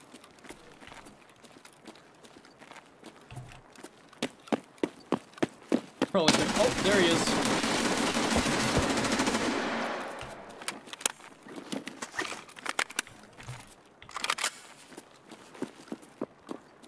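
Gunfire from the Rat Cannon in Escape From Tarkov: scattered single sharp shots, then a sustained loud burst of rapid fire lasting several seconds, followed by more isolated cracks and footsteps.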